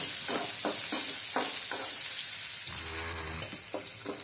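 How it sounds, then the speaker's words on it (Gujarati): Ginger pieces and two hot green chillies sautéing in oil in a pan while tempering dal, giving a steady crackling sizzle with short stirring scrapes throughout and a lower hiss swelling toward the end. "હવે આપણે આદુની કટકી નાખશું અને આ મરચાં છે 2 લીલા તીખી મરચી છે એને પણ આપણે સાતળી લઈશું"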